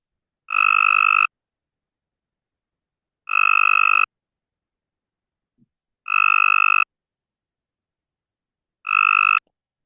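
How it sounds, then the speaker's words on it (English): Synthetic gray tree frog mating calls sound as four evenly spaced trilled bursts, each lasting under a second, clear and alone against silence. "And just for fun, I did want to share what our synthetic gray tree frog calls sound like as well."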